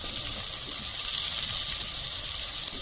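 Tomatoes, a quarter kilo, go into a Jilebi fish curry cooking over a wood-fired stove, giving a steady, loud hiss of frying and sizzling that runs evenly throughout without talk.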